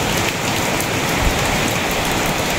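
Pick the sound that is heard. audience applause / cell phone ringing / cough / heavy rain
heavy rain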